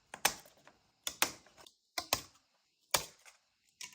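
Scissors snip off the handles of a brown paper bag, giving five crisp, close cuts in an irregular rhythm with short pauses between them and no talking.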